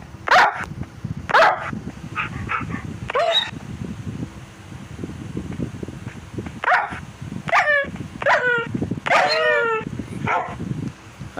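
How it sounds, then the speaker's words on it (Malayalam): Dog barks from a video game, a series of sharp barks and yips in irregular bursts, some quick clusters, close and fairly loud, with faint game sounds underneath. "ഈ പട്ടി എന്ത് ചെയ്യുന്നുള്ളിൽ?"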